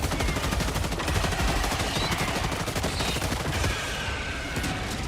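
Dense, continuous bursts of automatic gunfire from enemies strafing in the space shooter Star Citizen, with rapid overlapping shots filling the whole stretch at steady loudness.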